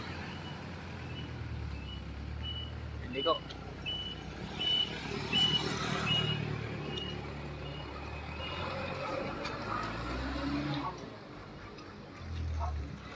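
Trucks rumbling along a mountain road near Parawagan heard from a bike ride, engines swelling as they pass, a high beeping tone, and a brief spoken remark.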